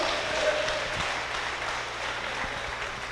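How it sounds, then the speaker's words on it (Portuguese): Steady applause from a church congregation during a sermon, a dense broadband clatter of many hands at an even level throughout, with no talk over it. "Aplauda Jesus agora."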